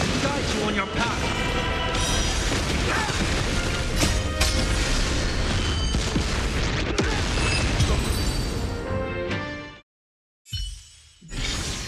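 A gas explosion in the Honkai: Star Rail video game, a dense roaring, crackling blast with debris and whooshing layered over music, sustained loud for about nine seconds before cutting to near silence and a brief fainter rumble.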